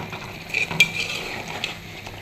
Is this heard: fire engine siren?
no